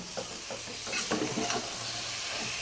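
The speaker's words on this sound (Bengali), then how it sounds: "এখন আস্তে আস্তে ভালো করে মিলিয়ে নিব" Dried fish (shutki) frying with tomato and green chillies sizzles in a pan while a spoon stirs and scrapes in a few slow strokes, close and fairly quiet.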